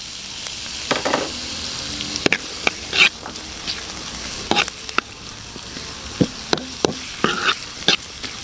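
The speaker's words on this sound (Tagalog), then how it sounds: "Bago natin ginisay. Butter. Bawang sibuyas." Garlic and onion sauté in butter with a steady, moderate sizzle, punctuated by scattered clicks and scrapes of stirring against the pan at irregular intervals.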